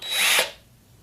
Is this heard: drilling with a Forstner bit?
yes